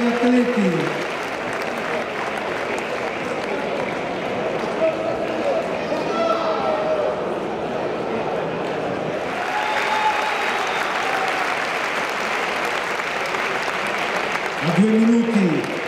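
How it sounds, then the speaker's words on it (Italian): Audience applauding two boxers at a boxing match: sustained, dense clapping and crowd noise from a large hall fills the whole stretch, steady and fairly loud, with an announcer's voice over the PA at the start and end. "Un applauso per i due atleti."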